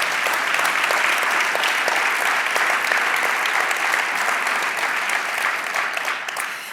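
Dense, steady applause from a university evening audience after a musical performance, continuous clapping at even loudness that tapers slightly at the end.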